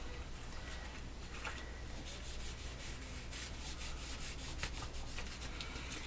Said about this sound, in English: We're just going to use the Waverly Antique Wax and wipe them down.